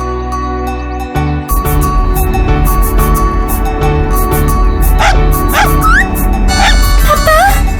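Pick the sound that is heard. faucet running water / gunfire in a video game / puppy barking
puppy barking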